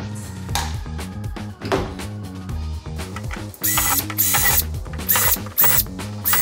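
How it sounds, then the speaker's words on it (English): A power drill bores pilot holes in a wooden utility door being converted to a cane door. The motor whines and surges in repeated bursts, with rattling, grinding bites and short pauses between them. "So I'm cutting pilot holes here just so that it makes it easier for when I'm trying to turn the corner with my jigsaw"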